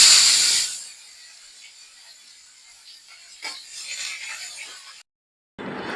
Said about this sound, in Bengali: মাছের তেলে ফোড়ন দিয়ে দিব। অল্প দিব জিরে, দিব তেজপাতা, দিয়ে দিব অল্প পেঁয়াজ